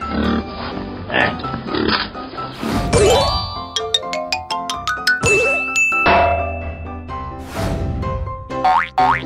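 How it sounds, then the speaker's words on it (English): A cartoonish pig oinking in a playful animal crossing game, set amid bright boings, dings and jingling chimes, with bouncy tones and sound effects filling the whole stretch. "Pig."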